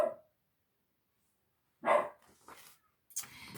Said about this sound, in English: My dog is barking here.